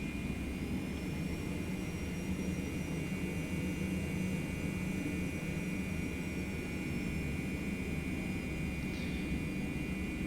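TFDi 717-200 jet in Prepar3d at Alice Springs, runway 05, its engines roaring steadily on the takeoff roll with a constant high whine over a broad low rumble, no talk.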